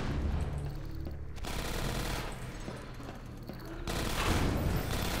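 Automated turrets firing in Half-Life 2 Episode One near a train: loud, rapid bursts of gunfire in two long volleys separated by a short pause, with no talk over them.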